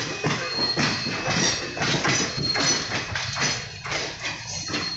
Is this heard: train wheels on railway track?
yes